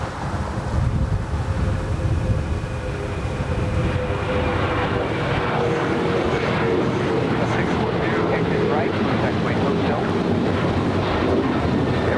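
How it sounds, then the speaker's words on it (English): Delta Airlines Boeing 737-900ER jet at LAX: a continuous broad roar of jet engines, steady and moderately loud throughout, mixed with wind noise. "That was Delta Airlines Flight 2585 heading to Raleigh-Durham, a 737-900ER."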